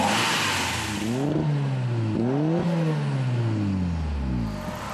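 A turbocharged 2-liter Cosworth racing engine in a TVR revs loudly and repeatedly, its pitch rising and falling in several sweeping throttle blips, close and continuous with no talking.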